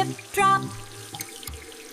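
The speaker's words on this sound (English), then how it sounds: "Turn the water off, drip, drop." Water runs briefly from a tap into a sink in an animated hand-washing song, followed by a few distinct drips, clear and close with no voice over it.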